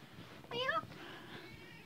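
A black cat gives a single short, rising meow at close range, about a quarter second long, over a quiet room.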